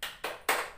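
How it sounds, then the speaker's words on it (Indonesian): Spirit clap in a classroom-style learning session, three sharp rhythmic hand claps in quick succession, close and clear with nothing else around them. "Mari kita tepuk semangat."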